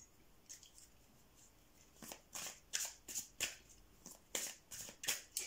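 Tarot cards are shuffled and laid out in a quiet room, a faint rustle giving way to a run of crisp, close slaps and flicks in an irregular rhythm, with no talking.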